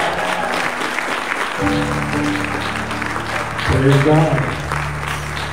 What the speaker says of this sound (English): Let's give Albert another round of applause.